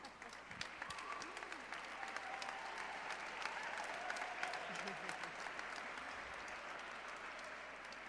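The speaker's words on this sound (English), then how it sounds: "That applause was for yourselves" Audience applause at a living history program, a steady wash of many hands clapping that holds for several seconds at a low, somewhat distant level, with faint voices mixed in.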